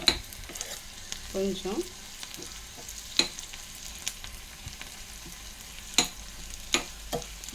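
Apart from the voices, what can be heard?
ivy gourd and onions frying in a pan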